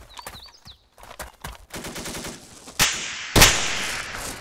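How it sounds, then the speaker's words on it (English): Machine gun fire in the World War II setting of the game Arma: brief early shots and chatter give way to rapid sustained bursts, then two loud, close eruptions of fire near the end, with no one talking. "I'm gonna take out that damn MG wherever it is"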